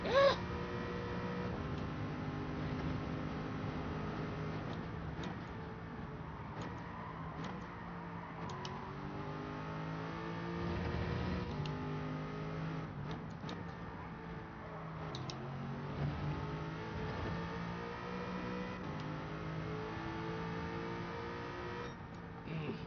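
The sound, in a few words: race car engine at Goodwood in Gran Turismo 7 video game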